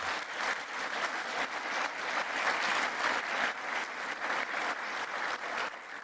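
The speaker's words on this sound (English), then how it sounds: "Let's give them a round of applause" At the closing ceremony of a large waste-industry congress in Baltimore, a big audience applauds with steady, full clapping throughout, without pause.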